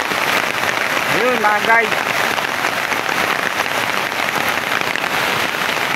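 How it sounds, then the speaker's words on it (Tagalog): Floodwater surging through an overflowing canal during Typhoon Paolo in Isabela, a loud, dense, unbroken rushing wash close by, with someone briefly speaking over it. "Lakas ng baha ngayon sa kanal pa lang to."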